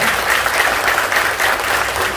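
Seminar audience at a business event bursts into sustained, dense applause, many hands clapping steadily and loudly throughout with no talking over it.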